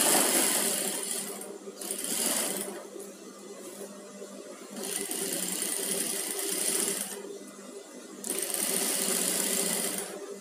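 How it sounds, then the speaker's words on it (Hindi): A sewing machine stitches lace onto fabric for a simple sleeveless jacket, running in three close bursts of rapid whirring and clicking separated by short pauses. "ऐसे ही पूरी लेस में सिलाई लगा देनी है दूसरी"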